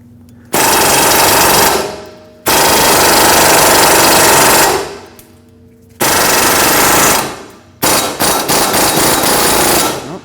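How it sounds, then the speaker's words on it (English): Impact tool hammering at a stuck steering knuckle bolt on a 2005-2021 Nissan Frontier 2WD, loud close bursts of rapid rattling that come on and trail off four times, the last burst choppier. "we'll put our power tool on this and try to spin it free"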